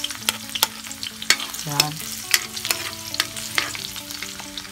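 Chopped onions fry in hot oil in a pan, a soft steady sizzle broken by sharp clicks and scrapes of stirring at an irregular rhythm. A voice briefly says a word.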